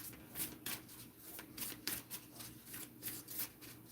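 Tarot cards being shuffled by hand in quiet, repeated bursts of riffling and sliding, soft and close, with short pauses between strokes and no talking.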